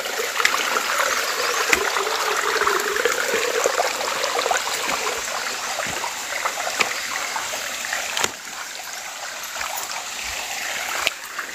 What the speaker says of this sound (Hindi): यहाँ पानी बह रहा है देखो